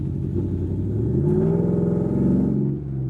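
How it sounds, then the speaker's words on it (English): A car engine with long tube headers and a true dual exhaust with X-pipe and axle dumps revs up with a deep, burbling note, rising in pitch and holding before dropping off, loud and close. "true dual exhaust X-pipe axle dump catback"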